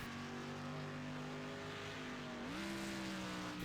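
A dirt street stock race car in the iRacing sim at Knoxville, its engine droning steadily before the revs step up as the car downshifts, loud and continuous without any talk.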